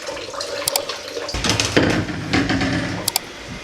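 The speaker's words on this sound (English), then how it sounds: "So let me wash the rice out." Boiled curried rice is rinsed under running water, a steady rushing splash that swells partway through, with a couple of brief clinks and no talking.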